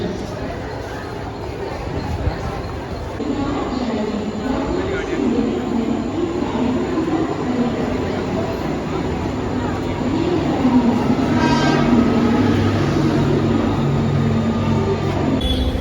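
A train at Bandra railway station in Mumbai gives a steady, close rumble and rattle for the whole stretch, swelling slightly near the end, with a murmur of voices mixed in.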